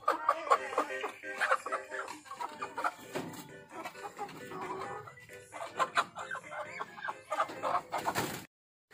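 Chickens clucking inside a freshly built home chicken coop, a close, busy chorus of overlapping clucks and squawks that runs continuously and cuts off abruptly near the end.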